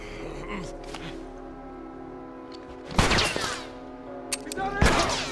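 Gunshots in The Last of Us Remastered, with a hunting rifle among the weapons: loud separate blasts ring out with ringing tails, one at the start, one mid-clip and one near the end, over a steady game background and a voice.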